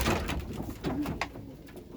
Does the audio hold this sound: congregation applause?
no